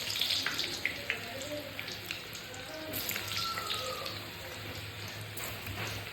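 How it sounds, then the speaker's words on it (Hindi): Eggplant pieces fry in hot oil for a Sindhi kadhi, a steady crackling sizzle with scattered pops that runs evenly throughout without pause. "बैगन को हल्का गोल्डन ब्राउन होने तक फ्राई करेंगे।"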